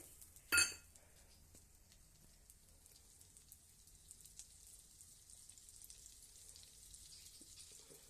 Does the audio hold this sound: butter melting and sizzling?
yes